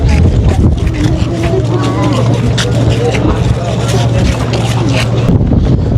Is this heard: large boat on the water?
yes